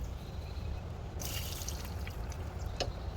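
Water runs and drips from the carburetor of a kei truck, a steady trickle with a brighter splashy burst partway through and a few distinct drips near the end.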